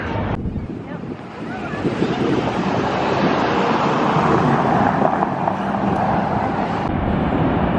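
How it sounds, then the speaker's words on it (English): Rushing water of Niagara Falls at night, near the American Falls by Clifton Hill: a loud, continuous roar with wind buffeting the microphone throughout. "You can see the American Falls over there."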